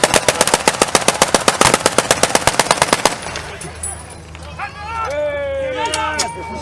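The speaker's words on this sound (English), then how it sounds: "The machine gunner in the turret is making sure that any infantry either keep the head downs or surrender." A tank turret machine gun at a wartime reenactment hammers out a long, fast, steady burst of close, loud shots for about three seconds, then stops, leaving crowd noise, a low engine rumble and voices.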